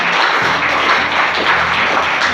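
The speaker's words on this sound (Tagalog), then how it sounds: "magbigay po muli tayo ng malakas na papuling palakpak sa Panginoon" Dense clapping from a church congregation fills the space in a continuous, fairly loud wash of applause.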